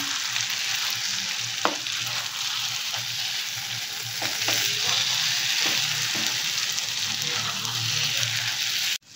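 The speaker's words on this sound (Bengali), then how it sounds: "এবারে আমি খুব ভালো করে নেড়ে নিই।" Pointed gourd paste with a spoonful of sugar being stirred in a hot pan, a continuous close sizzle with occasional scrapes and knocks of the spoon.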